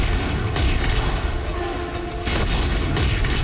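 A line gun in Dead Space 3 fires heavy, booming shots amid a dense, continuous mechanical clamor of combat, the blasts loud and close with no clear gaps between them.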